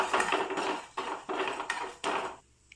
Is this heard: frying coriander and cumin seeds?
yes